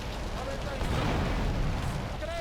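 An explosion in GTA Vice City bursts out as a broad, sustained roar lasting over a second, with game sounds and someone speaking Polish around it.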